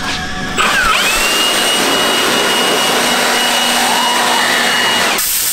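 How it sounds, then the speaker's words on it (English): A battery power tool blowing air to clean the radiator of a Can-Am X3, starting abruptly as a loud, steady high-pitched whir close by, holding for about five seconds and then cutting off. "Special radiator cleaning tool."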